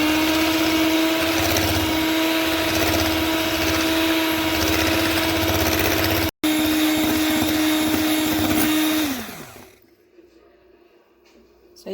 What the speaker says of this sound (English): Now beat the egg white.